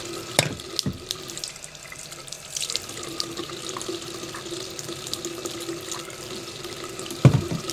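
Tap water runs steadily into a sink, a continuous close hiss with a few knocks and splashes near the start and a louder clunk near the end.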